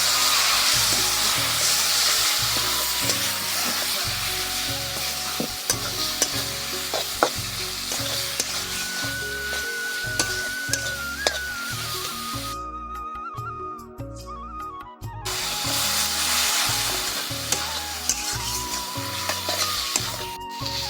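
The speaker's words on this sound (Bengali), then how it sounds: "এবার সব কিছুকে খুব ভালো করে কষাবো। অল্প একটু জল দিয়ে কষাবো" Chicken masala sautéed with a little water, a steady loud sizzle running throughout while a spoon scrapes and knocks the pan in a regular stirring rhythm, with a brief quieter stretch midway.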